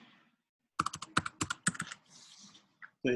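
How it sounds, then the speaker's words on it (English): Rapid bursts of typing on a computer keyboard, a quick run of clicking keystrokes followed by a pause and a short final flurry, close and clear with no talk. "I would be going into YouTube and then typing in Rusty Cottrell."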